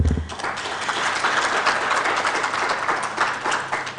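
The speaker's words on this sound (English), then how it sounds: "Give her another round of applause" An audience at a panel discussion on transforming food systems in Africa gives a sustained round of applause, a steady, fairly loud wash of clapping that continues for several seconds.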